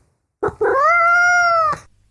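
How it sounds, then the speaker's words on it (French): A domestic cat gives one loud, drawn-out meow with a short rising onset, close to the listener and alone, lasting over a second before ending abruptly. "un chat est un chat."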